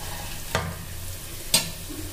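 Fried potatoes drop into boiling gravy for a potato and pointed gourd posto, with two brief splashy thuds about a second apart over a low bubbling simmer.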